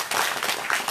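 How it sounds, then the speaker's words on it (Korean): An outdoor rally crowd applauds in a brief, dense burst of clapping from many hands, close and fairly loud, with no talk over it. "김영렬 팀장님께 다시 한번 박수 드립니다."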